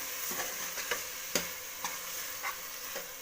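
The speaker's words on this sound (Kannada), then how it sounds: "ಎಣ್ಣೆಲಿ ಸ್ವಲ್ಪ ಮಿಕ್ಸ್ ಮಾಡ್ಕೋತೀನಿ ನನಗೆ" Tomato and lentils for soppu sambar are stirred in hot oil, a continuous loud sizzle punctuated by about six regular scrapes of the spoon across the pan, with no talking.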